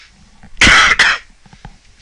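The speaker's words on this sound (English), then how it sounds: "Excuse me, I apologize for the coughing." A man with a head cold gives a sharp, loud double cough at close range, two harsh bursts in quick succession, then quiet breathing.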